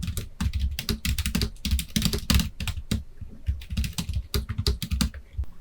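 Rapid typing on a computer keyboard while entering text in a Hangul word processor, with dense, close, crisp key clicks in quick irregular bursts throughout and no talking.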